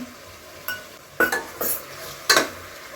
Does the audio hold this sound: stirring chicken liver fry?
yes